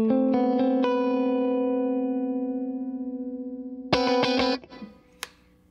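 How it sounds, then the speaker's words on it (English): Electric guitar through a Donner Ultimate Comp compressor pedal: a few picked notes and a long, evenly sustained chord that fades slowly, then a short strummed burst, loud and close, cut off with a muted scrape. "Now this is it with the Donner Ultimate Comp."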